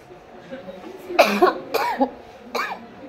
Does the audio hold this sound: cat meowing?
no